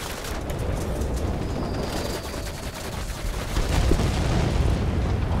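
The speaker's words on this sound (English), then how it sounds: "But then again, they're only 100-kilogram bombs." Continuous dense booming and rumbling blasts of 100-kilogram bombs in World of Warplanes, loud and sustained, swelling slightly louder near the end, with no voices.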